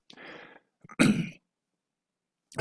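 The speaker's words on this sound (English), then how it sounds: "I have to clear my throat from time to time here" A single throat clearing, close and fairly loud, with softer breathy sounds before it and a brief noise at the end.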